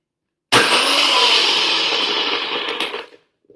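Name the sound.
blender crushing ice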